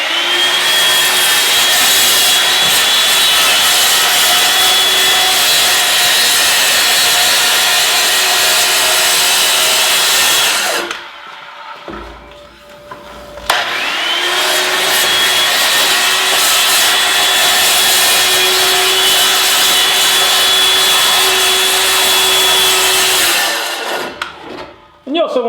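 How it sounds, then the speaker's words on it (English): DeWalt electric circular saw cutting around a barrel for a raised garden bed, a loud sustained high whine and grinding cut, pausing briefly midway before resuming, then cutting off near the end. "I have here my DeWalt electric circular saw here, and I still kept it up here on my table saw"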